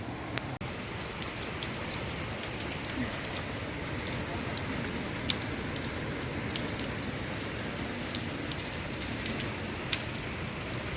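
Rain falling in the Uttarakhand mountains, a dense, steady hiss of drops on surfaces throughout, with a few sharper taps and faint voices in the background.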